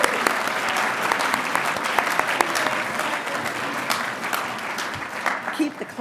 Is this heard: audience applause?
yes